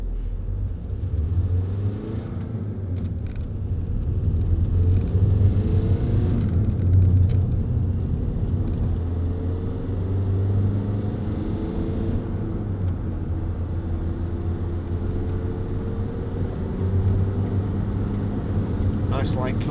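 Vauxhall Zafira 1.9 CDTi 16v SRi diesel people carrier on the move, a steady low engine drone and road rumble heard from inside the cabin, holding a fairly even level for the whole stretch.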